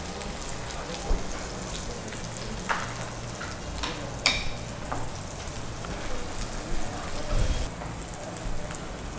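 Onions and radish frying in hot oil make a steady, close sizzle and crackle with scattered sharper pops, continuous throughout with no talking.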